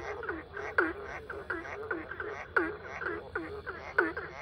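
Fat, camouflaged frogs, many of them gathered close by, croak loudly in a steady repeating rhythm of sharp, throaty calls, about two or three pulses each second with no talking.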